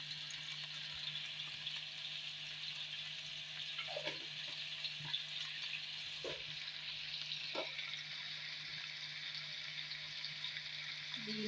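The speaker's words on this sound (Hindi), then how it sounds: "हम इसको भी बहुत अच्छी तरह से भूनेंगे इसको।" Beef with spices such as tandoori masala and ajwain sizzles in a pan, a soft continuous frying hiss with a few light scrapes of stirring, quiet and close with no talking.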